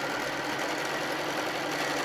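Home sewing machine running a long topstitch at about 3 mm stitch length while making a machine cover, a steady close motor whir with fast even needle chatter and no pauses.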